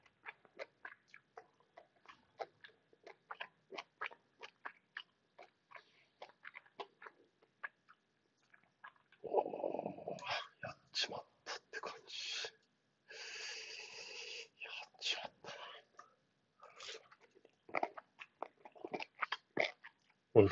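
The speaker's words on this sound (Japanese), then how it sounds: "ゆっくり噛まないと。" Someone eats spicy food slowly, chewing mostly on the left side: soft, close mouth sounds and crunchy bites come in an irregular rhythm, faint at first and growing louder and denser partway through, with no talk.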